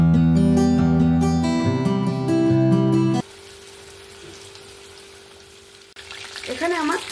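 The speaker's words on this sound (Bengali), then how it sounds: "এরপরে আমি বাদবাকি চিকেনগুলো আমি সেম পদ্ধতিতেই ভেজে নেব।" Chicken pieces deep fry in hot oil with a steady hiss. Music plays over the opening, and a voice speaks briefly at the end.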